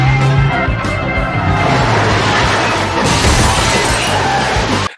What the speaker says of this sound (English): So more smash glass